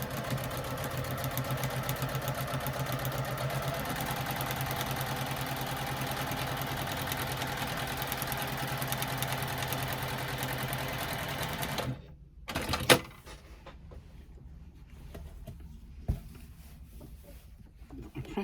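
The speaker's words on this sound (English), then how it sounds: "I'm going to stitch it in place using that scant 1/4 inch seam allowance" A sewing machine stitching a zipper pocket lining seam with a scant quarter-inch allowance, a steady fast mechanical whir running for about twelve seconds, then stopping, followed by a few quieter clunks and handling noises.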